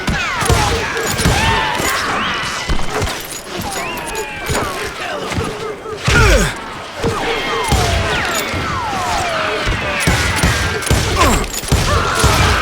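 Gunfire in the Call of Juarez Gunslinger video game comes as dense, repeated volleys of shots and impacts over a busy battle background, at moderate loudness throughout.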